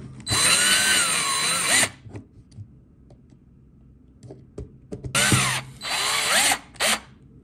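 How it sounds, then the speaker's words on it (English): A power drill whirs loudly driving screws in two long bursts separated by a pause with light clicks and handling noises, then a short final burst. "put these screws in real quick using my drill here."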